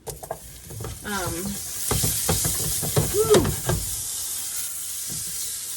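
Butter and garlic oil sizzle and spit in a big, very hot pan, a steady bright frying hiss with stirring clatter running throughout and a voice talking over it partway.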